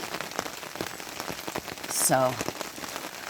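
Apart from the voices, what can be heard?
rain falling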